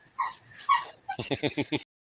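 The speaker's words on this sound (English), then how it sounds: "I have a puppy playing underneath my desk." A puppy playing under a desk whimpers in a few thin high cries, then lets out a quick run of about six sharp yips, close and fairly loud, with no voices over it.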